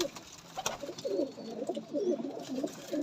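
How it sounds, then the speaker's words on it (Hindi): Black Moti pigeons coo nearby in soft, rolling bursts that repeat through the stretch, with a faint background hiss and no speech. "ये मेरे ब्लैक मोती कबूतर हैं।"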